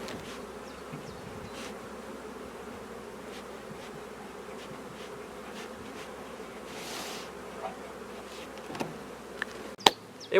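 Honeybees drone in an open hive, a faint, steady, close buzzing hum that carries on throughout, with a few soft clicks and knocks near the end.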